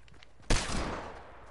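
Video game hand cannon fires a single sharp, loud shot that cracks suddenly and decays into a brief rumbling tail, with no talk over it.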